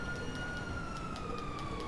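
A police siren wails faintly in a video game chase, a steady rising and falling tone held low and distant beneath a background hum, with no voices.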